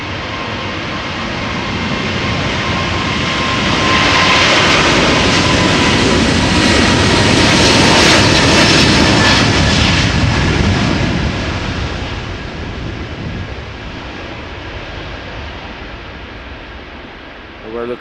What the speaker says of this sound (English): Here we have United Flight 71 going to Newark.